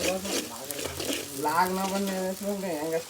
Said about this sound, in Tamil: நல்லா வெங்காயத்தை பற்றி வச்சுங்க நல்லா கொஞ்சம் செம்மன் கலரில் வர மாரி இது பண்ணணும்